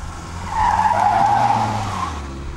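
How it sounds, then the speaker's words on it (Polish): Vintage car, some about 90 years old, skidding on a sport trial at a historic vehicle rally, tires squealing loudly with the engine roaring for about two seconds, then fading slightly. "Szybko, szybko jeżdżą te stare maszyny?"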